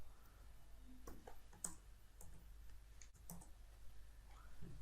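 HTML code being typed on a computer keyboard, faint scattered key clicks with irregular gaps under a steady low hum, quiet and close.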